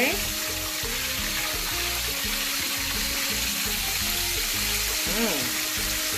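Fish frying in hot oil, a steady close sizzle and crackle running unbroken throughout, with faint clatters and a few brief scrapes.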